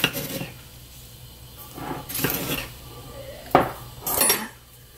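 A spoon scoops sugar into a pot of cooked red bean paste, with several separate clinks and scrapes of metal against the pot spaced a second or so apart, close and moderately loud over a quiet background.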